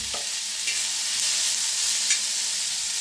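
Ingredients roasting in oil in a pan give off a steady, bright sizzle with a few soft stirring scrapes, close and continuous, with no voices.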